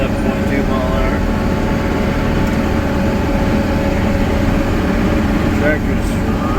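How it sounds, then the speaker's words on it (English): A farm tractor in 11th gear during a final hay cut drones with a steady, loud engine rumble, constant and unbroken throughout at close range. "Tractor's running awesome."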